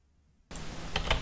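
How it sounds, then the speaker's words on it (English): Computer keyboard keys being smashed, a sudden burst of rapid, loud clattering keystrokes that starts abruptly after a near-silent moment and keeps going. "Now I'm talking at the same time as I smash my keyboard."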